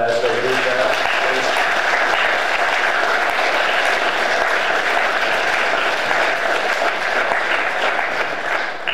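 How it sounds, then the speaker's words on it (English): Sustained applause from an audience at a Veterans Day ceremony honoring veterans, a dense, steady wash of clapping that lasts throughout without pause. "can we give them one more round of applause as they do that?"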